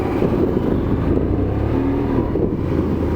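A motor scooter engine roars loudly and steadily as it accelerates and revs high, with heavy rumble and wind buffeting from close range, and there is no talk.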